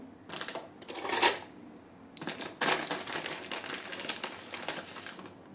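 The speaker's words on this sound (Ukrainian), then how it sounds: "Розмішуємо, щоб соль вся." Salt being stirred into a small amount of brine for dry-cured bream, giving a gritty scraping and crinkling texture in uneven bursts, fairly close and moderately loud, with no talking.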